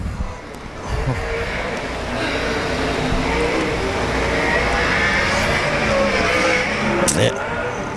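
A sprint car runs a time-trial lap at an Arizona speedway in a USAC/CRA event, its engine a steady, loud, sustained roar with slight pitch shifts as it circles the track, over crowd and venue ambience.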